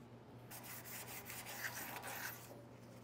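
Outdoor furniture being sanded outdoors, a steady close rasping scrape with repeated strokes over a low constant hum, no talking.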